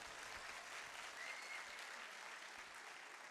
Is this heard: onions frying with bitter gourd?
no